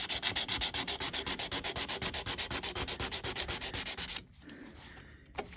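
Stainless steel trim being hand sanded with 320 grit sandpaper in quick, regular back-and-forth strokes, loud and close, for about four seconds before stopping abruptly.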